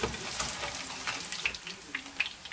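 Tofu sizzles and crackles softly in hot oil as it browns and crisps, with scattered pops and spits over a steady low hiss, close and fairly quiet throughout.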